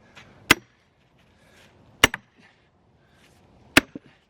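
Three loud, sharp metallic strikes of a sledgehammer driving a splitting wedge into wood, spaced evenly about a second and a half apart, each followed by a faint rebound tap, close up with no talking.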